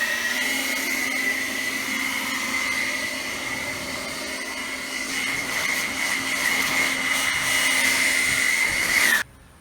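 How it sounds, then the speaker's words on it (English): A powerful air blower drying a freshly washed car, roaring as a loud, steady whoosh with a high whine that cuts off abruptly at the end. "We're going to use our best air blower that there is."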